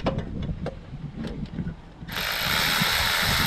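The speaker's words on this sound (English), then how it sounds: "Let me get the magnetic socket." A ratchet wrench fitted with a magnetic socket works a bolt loose on a car, giving a run of close mechanical clicks, followed by a steady loud rushing noise.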